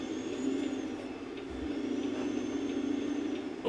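A truck engine labours in a low, steady drone while climbing steep hills with a strained transmission, a continuous rumble with a slight rise at the end and no talking.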